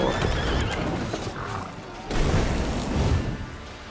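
A war wagon attack with horses in Thronebreaker: The Witcher Tales brings loud whinnying and neighing over rumbling clip-clop hoofbeats, swelling into a heavier crash of movement halfway through.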